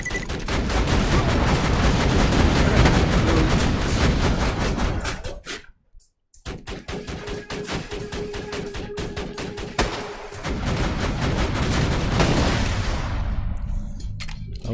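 Sustained rapid turret gunfire in Borderlands 2, loud and dense with rattling bursts, briefly cutting out near the middle before resuming with continued shots and impacts.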